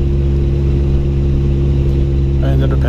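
A Triumph TR4A climbs Mt Washington in second gear, its engine giving a loud, steady low hum with strong even tones, joined near the end by brief extra rattling or voice-like sounds.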